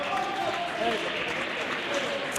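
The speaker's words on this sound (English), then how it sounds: "gets a round of applause from the fans in the stands who did pay to watch him" Fans in the stands applaud at a pool money match after a shot is potted, a steady, fairly distant wash of clapping that fills the whole stretch, with a commentator's voice faintly underneath.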